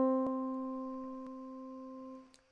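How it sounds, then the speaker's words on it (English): Piano strikes middle C once, a clear close single note that sustains and slowly fades over about two seconds. "So middle C, being right in the middle, sounds like this."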